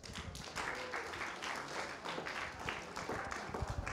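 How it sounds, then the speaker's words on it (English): A round of applause at a youth church gathering, a small, sparse group clapping for about four seconds, fairly quiet and distant with an uneven rhythm. "can we give Seth a round of applause again?"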